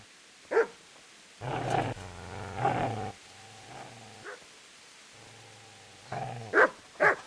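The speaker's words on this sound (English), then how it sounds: "Then I started to hear a dog, and I went to go check it out." A dog in the medieval game Kingdom Come: Deliverance gives sharp close barks and low rumbling growls in irregular bursts separated by quiet gaps.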